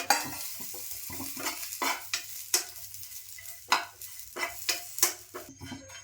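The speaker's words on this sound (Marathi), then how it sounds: "आता मी खोबरं भाजून घेते" Grated coconut dry-roasting on a hot tawa while being stirred and turned, giving a soft continuous sizzle broken by irregular scraping strokes of a spatula on the iron pan, close up and with no talking.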